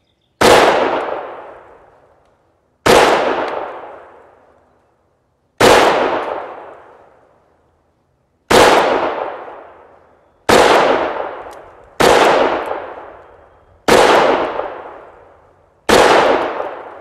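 Eight sharp pistol shots from an Excel Arms Accelerator ring out one at a time at uneven intervals of about two seconds, each a loud crack followed by a ringing decay, with no talking.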